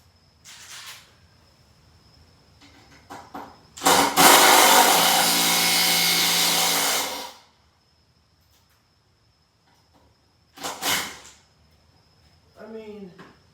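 A 12V cordless impact driver drives a screw into wood in one loud, rapid hammering burst of about three seconds, with shorter bumps and handling noises before and after.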